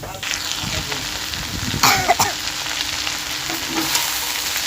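Chopped water spinach hits a pan of lightly fried onions and sizzles loudly and steadily at close range, with a few sharper scraping bursts as it is stirred and no one speaking.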